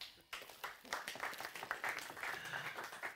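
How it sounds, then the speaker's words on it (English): A small meetup audience at a Java user group gives a round of applause for a handheld gaming player, a sudden onset of fairly faint, distant clapping that holds steady with a hint of voices mixed in. "give him a round of applause for playing"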